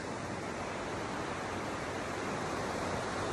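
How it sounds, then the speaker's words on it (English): The River Dee at Llangollen, a steady broadband rush of flowing water, close and continuous with no break and no voices. "So I'm just down by the river, down by the riverside."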